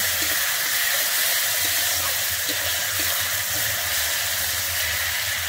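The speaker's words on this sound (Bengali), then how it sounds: "বেটে রাখা মশলাটা দিয়ে কিন্তু আমি এখানে একটু কষিয়ে নেব।" Ground cumin, mustard, ginger and dried chili paste sizzle in hot oil in a pan, a steady loud hiss frying without pause and no talking.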